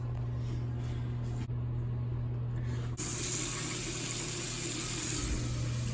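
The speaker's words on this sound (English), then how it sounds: "I can turn on the cold water supply here, and we're gonna run this sink and see how it does" Cold water runs from the faucet of a newly installed bathroom vanity sink, a steady soft hiss over a low hum that grows fuller and brighter partway through as the flow increases.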